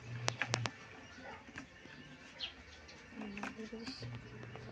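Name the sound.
pigeons being released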